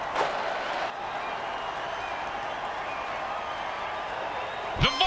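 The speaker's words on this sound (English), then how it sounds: "The home crowd is cheering and throwing up at the same time" A home crowd in an American football video game stadium roars with a steady, dense wash of cheering and applause that holds for several seconds, with a short sharp burst near the end.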